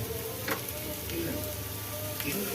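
Grated carrot and curry leaves sizzle in a mustard-seed tempering, a steady close hiss of frying with a few soft stirring scrapes and no talk.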